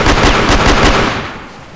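A money gun fires in the Crossfire video game as a fast burst of sharp, loud, rhythmic shots that fade off with a tail after about a second.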